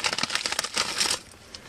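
A plastic Ziploc bag holding a large fire tinder crinkles and crackles up close in quick bursts, then quiets to a softer rustle near the end.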